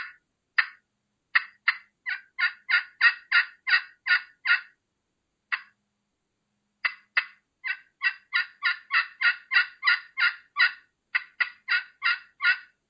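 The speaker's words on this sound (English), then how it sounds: "just some basic clucking and yelping, just like so, I'm going to run a Woodhaven Vision right now" A Woodhaven Vision mouth turkey call producing a long series of sharp hen clucks and yelps, rhythmic bursts with a short pause midway, crisp and close in a quiet setting.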